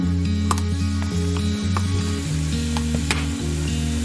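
Shrimp frying in a hot pan for Mexican shrimp tacos, a loud continuous sizzle with small scraping and clicking from stirring, close and unbroken.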